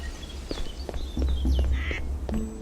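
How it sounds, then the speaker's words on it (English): Ducks in the video game Dwarrows, several short quacks and bird calls spread over a couple of seconds against a low ambient rumble, with no speech. "They have geese. Ducks."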